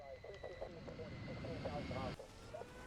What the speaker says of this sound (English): that's the aeroplane